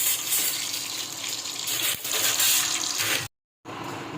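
Water pours into a cooking pot for Odia-style khichdi, about two to two and a half glasses' worth. It makes a steady, close rushing gush that cuts out briefly near the end and then resumes.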